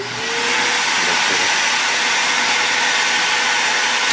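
A vacuum cleaner built into a Lego Transformers Devastator model runs loudly and steadily, a close continuous whooshing roar that holds level after a brief rise at the start, with no voices.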